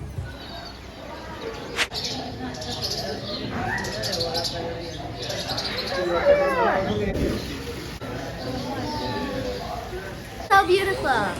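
Parrots, including a red-crowned Amazon, and other birds call and coo in an aviary under nearby talking, with scattered chirps and squawks that rise to a louder burst near the end.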